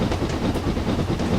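A steam locomotive rolls along rails in Train Simulator 2015 on a Somerset to Dorset route, giving a steady low rumble with faint rhythmic clatter of wheels over track throughout.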